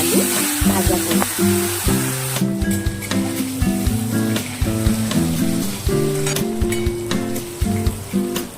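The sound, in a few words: frying ridge gourd and potatoes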